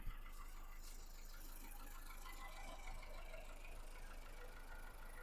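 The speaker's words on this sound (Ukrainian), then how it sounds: "Мотор часи працює тихо рівно." A 2010 Volkswagen Golf 6 1.4 MPI engine idles evenly and quietly with a soft low hum and faint hiss, no voices over it.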